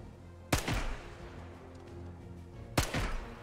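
A grease gun submachine gun in Sniper Elite 5 fires in two short, sharp bursts, each a loud crack with a brief echoing tail, separated by a couple of seconds of quiet background.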